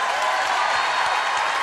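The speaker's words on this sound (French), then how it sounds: "applaudissements pour ma moitié" Steady applause from a studio audience on a French TV show, a continuous even clatter of clapping hands at moderate loudness with no break.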